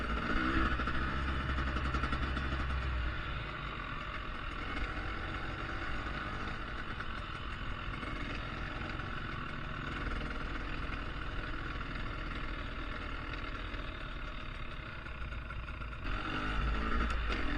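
A 2020 KTM 300 XC-W two-stroke dirt bike runs on a forest trail at Tahuya, west of the Puget Sound, its engine droning steadily and close, with throttle surges near the start and end.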